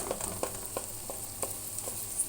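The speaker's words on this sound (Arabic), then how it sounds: "ابدأ اشوح صلصة البمبار اللي هنحشي بيها لحد ما تدبل خالص" Onion sauce for stuffed lamb bambar sausage sautés in a pan with a steady low sizzle, broken by occasional soft stirring clicks and scrapes.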